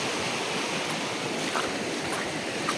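Water of a stream flows in a steady, even rush, a constant close wash with no pauses.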